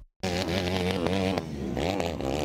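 A small go-kart fitted with an oversized engine races on a track, producing a loud, close buzzing engine note that rises and falls in pitch as the throttle changes, with no talking.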